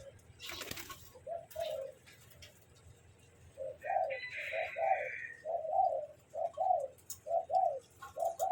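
Malay pigeons, a female ready for breeding, coo in a rhythmic series of soft, close, repeated calls, with a few faint chirps and a brief rustle near the start.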